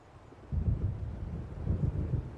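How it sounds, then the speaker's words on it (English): Wind and low rumbling thunder from an approaching storm in Alan Wake, a deep rolling roar that swells in after a quiet start and keeps going. "It seems there's a storm coming."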